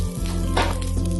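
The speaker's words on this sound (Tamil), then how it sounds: "கொஞ்சம் எண்ணெய் ஊற்றி, அதே எண்ணெய் தான் ஊற்றி கடுகு, உளுந்தம்பருப்பு, கருவேப்பிலை" Mustard seeds, urad dal and curry leaves sizzle in hot oil in a pan for a curd curry tempering, giving a close, steady crackling hiss with no voices.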